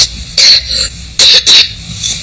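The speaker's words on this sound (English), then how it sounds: "You've got a bit of a cough, haven't you?" A young girl with an ongoing cough gives a few short, harsh coughs close up, in two quick pairs separated by brief pauses.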